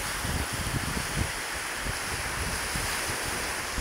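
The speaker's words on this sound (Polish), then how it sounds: "Kurwa, przypływ idzie." The incoming tide on the North Sea sends waves surging and washing ashore in a continuous loud roar, mixed with gusty wind buffeting the microphone.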